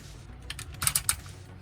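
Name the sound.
clicking ratchet joints of a transforming robot action figure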